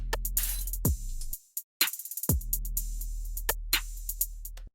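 A punchy trap drum pattern made in Ableton Live, with deep booming bass kicks, snappy hits and sizzling open hi-hats ringing out over a steady beat.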